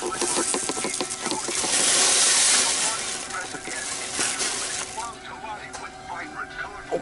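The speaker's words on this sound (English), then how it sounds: "Just pour a little bit in there." Kitty litter poured a little at a time into a container inside a camper van, a loud granular rattling and hissing rush that swells midway and then thins into scattered trickles, heard alone without talk.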